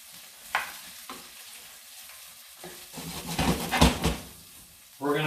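Sausages frying in a pan with a steady sizzle, stirred and shuffled in bursts of clattering, close by, with a voice speaking at the end.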